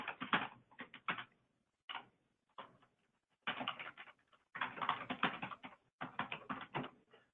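Quick bursts of typing on a computer keyboard entering a note into practice management software, close and clear, with short pauses between runs of keystrokes.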